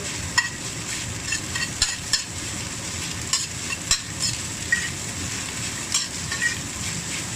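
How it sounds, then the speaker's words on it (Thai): Chinese rice stir-fried in a wok over high heat, with a steady loud sizzle and repeated scraping clicks of the spatula tossing the grains, close up and alone. "นี่ค่ะไฟแรงผัดให้ ข้าวแตกร่วนเป็นเม็ดเป็นเม็ดนี้เลยค่ะ"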